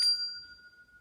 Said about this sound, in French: Petit son de cloche qu'on a compris en même temps.